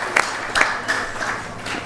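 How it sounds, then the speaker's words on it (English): An audience at a Sunday feast festival program claps together in a short, sustained burst of applause with sharp individual claps standing out, heard alone without talk. "So please give them a big round of applause."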